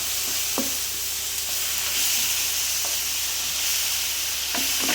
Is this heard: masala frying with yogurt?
yes